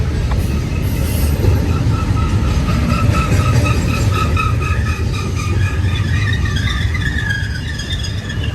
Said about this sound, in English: Thinking I see another train.